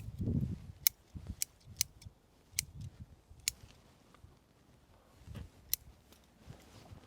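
Pruning scissors snip at a summer bonsai tree, about a dozen sharp, isolated clicks spread unevenly over several seconds, close and fairly quiet, with a few soft rustles and knocks of branches between cuts.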